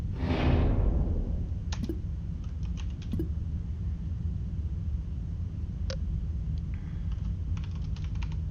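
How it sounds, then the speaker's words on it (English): Computer keyboard typing during a session of the game Duskers, a steady patter of close, soft key clicks with a few sharper taps, with no voices. "Sorry about the typing."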